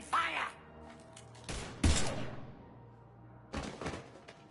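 Gunfire erupts in the Mass Effect 3 video game, heard as a few short, punchy bursts of shots and thuds separated by quieter moments, with some faint game voices.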